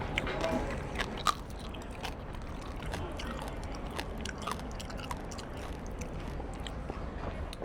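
Close, repeated crunchy bites and chewing of crispy cooked skin, with sharp irregular crackles standing out over a low background murmur.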